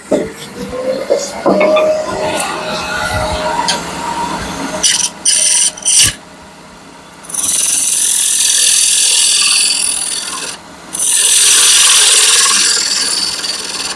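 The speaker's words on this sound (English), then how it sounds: "just switched over my sealed bowl gouge. Just hog out most of this pretty easily." Sealed bowl gouge hogging wood off a spinning workpiece on a lathe, with loud bursts of broadband scraping and shaving noise that come and go in long cuts, broken by short pauses.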